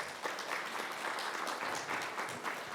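A conference audience at a sports museum academic symposium claps for the keynote speaker, with a steady wash of applause at moderate distance for about three seconds.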